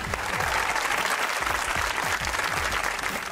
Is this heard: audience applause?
yes